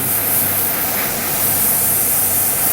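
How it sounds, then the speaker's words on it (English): Steady airbrush or aerosol spray hissing continuously and fairly loud while painting a Revell Imperial Shuttle model kit in mottled, uneven strokes, with no pauses and no voices. "We're literally going to spray this,"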